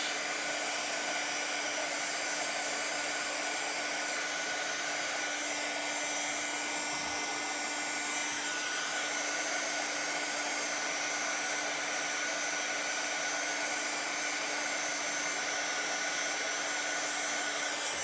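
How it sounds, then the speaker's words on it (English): A heat gun blows hot air steadily over a wood-burning stencil during pyrography, a continuous close whooshing hum that holds at an even level for the whole stretch, with no talking. "And you can just keep going with your heat gun as long as you want."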